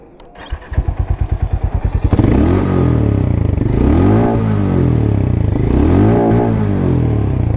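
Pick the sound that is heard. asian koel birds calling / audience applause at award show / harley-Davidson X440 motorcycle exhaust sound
harley-Davidson X440 motorcycle exhaust sound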